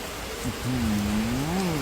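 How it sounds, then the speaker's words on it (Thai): Steady rain falling hard and growing heavier on a muddy, unleveled garden plot beside a tent at a countryside orchard home in Chanthaburi, a dense broadband hiss with a faint low tonal hum running through it. "ฝนก็ตกไปเรื่อยๆ ตกแรงขึ้นแรงขึ้นแรงขึ้นแรงขึ้นแรงขึ้นและแรงขึ้น"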